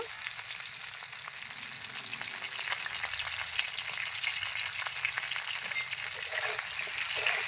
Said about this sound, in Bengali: ভালো করে নেড়ে চেড়ে নিয়ে পটলটা আমি ভেজে নেব